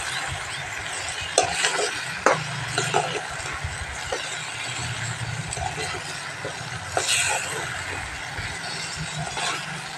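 Curry leaves fry in hot oil, a steady low sizzle with occasional sharp crackles and stirring knocks, continuing for several seconds with faint talk in the background.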